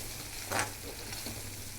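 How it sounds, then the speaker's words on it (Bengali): Spice masala fries in oil in a pan and gets stirred, giving a soft, even sizzle with one brief scrape of the spoon partway through, fairly quiet and without speech. "এইভাবে এটা নাড়াচাড়া করতেই থাকবো, যতক্ষণ পর্যন্ত না মশলাটা থেকে তেল ছেড়ে যায় ভালোভাবে"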